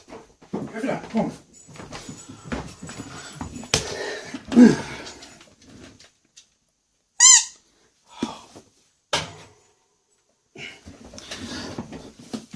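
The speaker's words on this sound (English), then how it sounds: "getting squeaky toys and pulling them out" A dog pulls squeaky toys loose, producing a sharp squeak and scattered rustling thumps, with a person talking intermittently throughout at close range.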